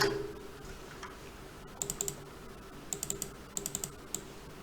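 Code is typed on a computer keyboard in quiet, light bursts of rapid clicking keystrokes with short pauses between them, close by, and no one talking.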